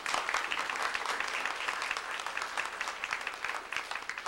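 Audience applause at a 1990 D.A.R.E. graduation ceremony, dense, even clapping from a large crowd that sustains at moderate loudness for several seconds.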